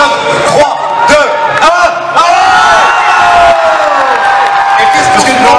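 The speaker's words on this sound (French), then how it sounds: "j'aimerais qu'on refasse juste un tonnerre d'applaudissements pour vous tester" A convention crowd at a YouTuber panel during Paris Manga 2014 bursts into loud, close cheering, whoops and yells mixed with clapping, rising and falling in ragged waves with individual shouts standing out.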